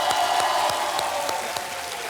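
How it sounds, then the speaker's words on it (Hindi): Studio audience applauding on a TV quiz show, a brief, steady burst of clapping with rhythmic accents underneath, moderately loud and without talk. "जोरदार तालियां बज जाएं सोनिया जी के लिए।"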